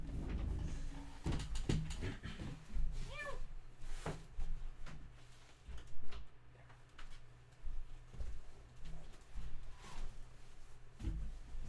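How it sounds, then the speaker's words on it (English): House cats meowing indoors, several short cries scattered through a quiet room with soft thumps and background noise between them. "That's all the cats, by the way."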